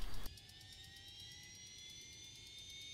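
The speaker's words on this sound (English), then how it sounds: "Okay, we'll restart the engine." Aircraft engine restarting in a flight simulator game: a short rumbling burst gives way to a steady high whine with rising tonal hum, constant and fairly loud, with no talk.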